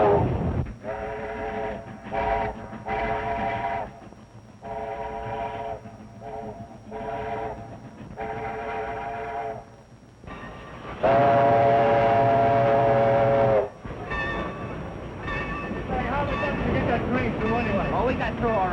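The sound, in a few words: steam train whistle and rolling railroad cars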